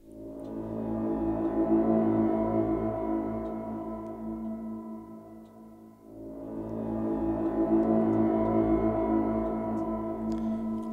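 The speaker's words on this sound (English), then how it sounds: "this little sort of horn call type thing from the Chimera library" Cinematic horn call sample from the Chimera sample library, two long swelling brassy tones with a soft attack and sustained fade, rich and resonant, heard alone without talking.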